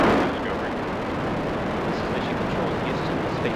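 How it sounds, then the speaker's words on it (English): Space Shuttle Discovery's boosters thunder through the STS-133 launch, a dense, roaring, crackling rumble that stays heavy and steady throughout. "Booster ignition and the final liftoff of Discovery"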